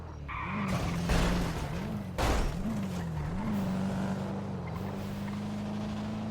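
Engine of a Gauntlet car in a GTA game, a steady close drone that revs up and down across several gear shifts, with a couple of brief bumps and no talking.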